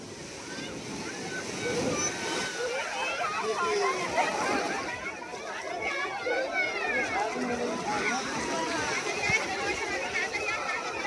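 Sea water at Digha beach splashing and washing around a family wading into the surf, steady loud surf and splashes with children's voices and chatter mixed throughout.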